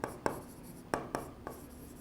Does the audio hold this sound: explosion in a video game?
no